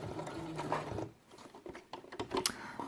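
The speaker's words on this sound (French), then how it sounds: "venir faire un trait de couture ici" A sewing machine stitching a seam on felt for a quiet book, running in a fast steady whirring patter, pausing briefly, then resuming in short close bursts.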